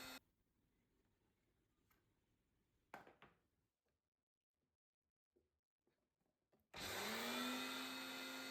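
A kitchen blender mixing pancake batter kicks on suddenly near the end with a loud, steady whirring roar, after several seconds of near silence broken only by faint ticks and a brief clatter.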